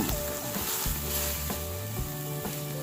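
Mustard green stems dropped into a hot pot for a Thai chicken and mustard green curry, giving a steady loud sizzle with a few stirring knocks, close up and with no voices.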